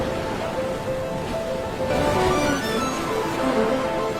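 Steady wash of sea waves breaking along a shoreline, a continuous broadband surge that swells slightly midway, with no voices over it.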